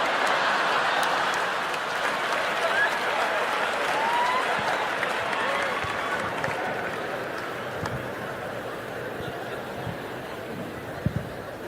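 A comedy club audience at a stand-up show breaks into steady applause mixed with scattered chuckles and crowd murmur, the clapping fairly loud and continuous before thinning slightly near the end.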